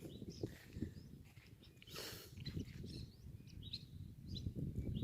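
Birds circling above a vannamei shrimp pond, giving faint, scattered chirps and calls over a low rumbling background at a distance.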